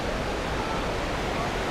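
Aliwagwag waterfalls in Davao Oriental, Philippines, pour out a dense, constant roar of rushing water, broad and unbroken with no pauses.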